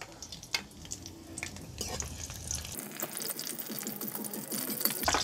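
Chopped chillies hit hot oil in a wok and set off a sharp, busy sizzle and crackle that grows denser partway through, with light clattering of a utensil, close and steady.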